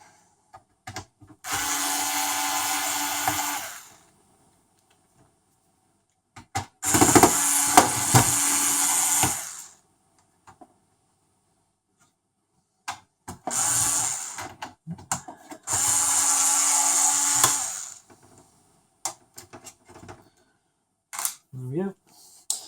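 Silver Phillips screws being backed out of a CUH-12XX series PS4 console, heard as four loud, buzzing mechanical bursts a few seconds each, separated by quiet pauses, ending with a few small clicks.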